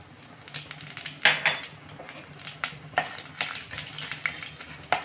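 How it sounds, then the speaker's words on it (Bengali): Panch phoron five-spice mix fried in oil in a pan along with dried red chillies and bay leaves, with crackling sizzle and irregular clinks and scrapes of a spoon against the pan, close up. "5 ফোড়নটা আমি একটু ভেজে নিয়েছি, খুব সুন্দর গন্ধ বেরিয়েছে।"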